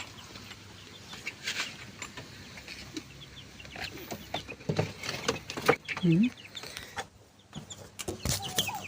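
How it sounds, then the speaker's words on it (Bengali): Egyptian Fayoumi chickens cluck softly at feeding time, scattered clucks and short calls over low background noise, with someone talking intermittently. "এখন আমি মিশরীয় আমার ফার্মি মুরগি যেগুলো আছে ওগুলোকে আমি এখন খাবার দিব"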